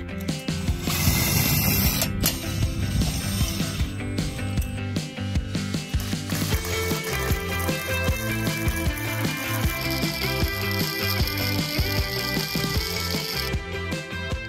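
A BADLAND 12,000 pound winch on a trailer log arch runs continuously, giving a busy mechanical clatter of ratcheting and gear whirring with a constant rhythmic pulse, loud and close throughout.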